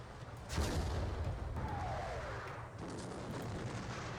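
Napoleonic-era artillery in a Waterloo campaign strategy game: a heavy cannon boom lands about half a second in, then a sustained low rumble with scattered distant reports continues throughout, loud and alone.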